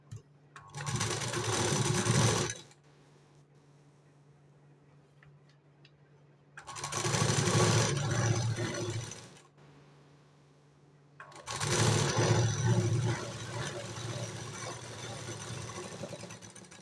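A sewing machine stitches the corner of a blouse in three loud bursts of rapid whirring. A low steady hum fills the pauses between the runs.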